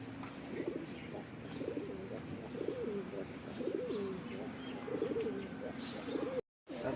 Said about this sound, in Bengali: এখনও আস্তে আস্তে সবাই কবুতর নিয়ে আসতেছে